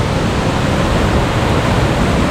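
Anbang Falls in Colonsabac, Matanao pours in a loud, dense, unbroken roar of falling water, heard up close and steady with no other sounds.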